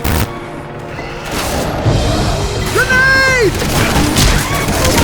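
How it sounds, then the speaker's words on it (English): A loud grenade blast booms in a Left 4 Dead 2 Blood Harvest match, amid a dense game soundscape with shouting voices and rising tonal effects over continuous rumbling action. "Grenade!"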